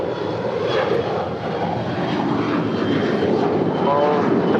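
A Boeing 777-300ER airliner swings through a left turn on a taxiway at LAX, its engines a continuous near roar with a faint rising whine late on, no talk heard.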